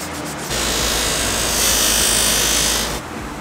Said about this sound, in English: now it comes down to hand sanding the fine details